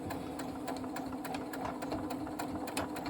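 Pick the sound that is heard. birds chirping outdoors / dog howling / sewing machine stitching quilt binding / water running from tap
sewing machine stitching quilt binding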